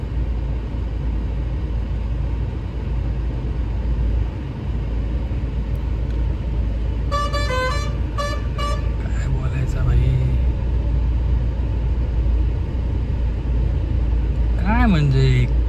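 Road traffic jam with travel buses: a constant low engine rumble from idling vehicles, with a brief burst of honking horns and more horn tones near the end, under a person talking close by.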